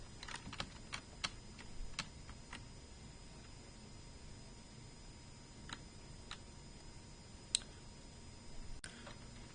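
Sharp, sparse clicks from a computer mouse used while editing in the Source level editor, scattered irregularly over about ten seconds against a quiet background, with no talking.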